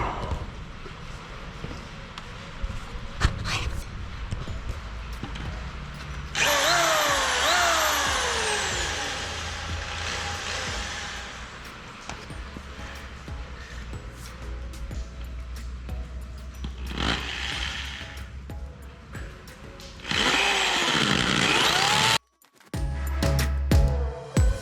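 A power drill whines in several long bursts while installing a winch in an aircraft hangar, pitch shifting as it bites into material, with pauses and handling noise between runs.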